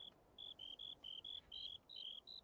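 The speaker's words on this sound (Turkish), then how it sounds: "Bu ne? Sinek." A buzzing insect in the game Minecraft Hexxit, heard as a series of short, steady high-pitched buzzes in an even rhythm, close and clear over a quiet background.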